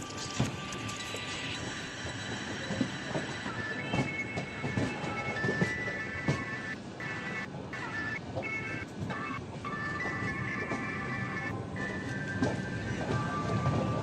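Loud, continuous rumble and clatter of a moving train on rails near Jhansi railway station, with rhythmic wheel knocks and metallic squeals throughout.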